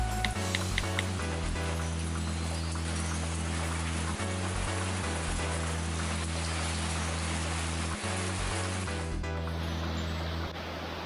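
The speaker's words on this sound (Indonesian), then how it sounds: "di luar hujan" Steady rain falls outside in a continuous dense hiss, with a low constant hum underneath for most of the stretch and no talking.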